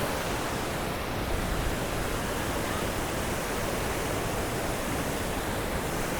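Waterfall at Kalmandavi, Jawhar, roaring as a dense, continuous broadband rush of falling water, loud and close, steady throughout with no voices.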